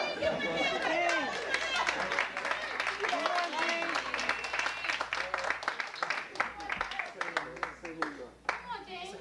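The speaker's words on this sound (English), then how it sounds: "Give me a hand clap." A small group claps and chatters, with scattered hand claps under overlapping voices and talking, the clapping growing sparser and more distinct toward the end.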